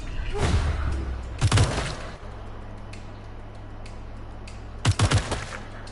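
A few sharp gunshot bursts in Wasteland 3 combat, two close clusters of rapid shots separated by a quieter stretch of low background hum.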